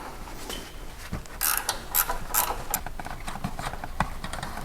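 A ratchet wrench works loose a front shock absorber bolt on a Mitsubishi L200 pickup, giving a series of quick metallic clicks that come in short bursts, close and moderately loud, with no talking.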